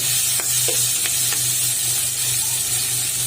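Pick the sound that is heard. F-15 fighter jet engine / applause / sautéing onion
sautéing onion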